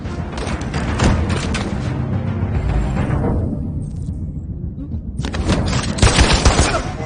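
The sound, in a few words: gunfire from the video game Detroit: Become Human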